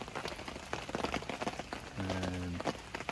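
Steady rain pattering at a lakeside wild camp on Loch Awe in Scotland, a dense, even hiss of falling drops with brief tapping bursts and a short low hum partway through.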